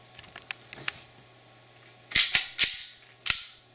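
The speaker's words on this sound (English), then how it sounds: "Fires, shake it. You'll hear that noise. That'll be your firing pin in there going back and forth." Glock pistol being shaken after reassembly, its firing pin rattling back and forth inside: a few light ticks followed by four sharp, close metallic clacks in an uneven rhythm, heard alone without talk.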